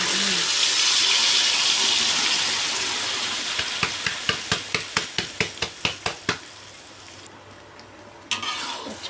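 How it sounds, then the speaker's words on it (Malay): Shallots, garlic and ginger sautéing in hot oil for a sambal paste, a steady close sizzle with a quick run of rhythmic utensil taps in the middle, then quieter frying; no talking. "Kita tumiskan bawang merah, bawang putih sedikit tadi dan halia ya."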